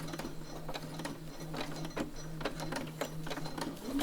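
A sewing machine runs steadily through several layers of fabric, stitching a long reverse seam for a fabric and lace journal. It gives a continuous close mechanical whir with a fast rhythmic needle chatter, and no voices.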